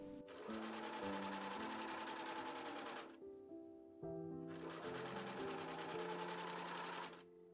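A sewing machine stitches front pieces of a vintage stage ghost costume together, two long steady runs of fast, even stitching, close and clear, split by a brief pause.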